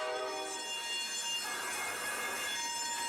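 Metallic train wheels squealing in the video game SnowRunner, a loud sustained high screech with layered tones that holds throughout, without speech.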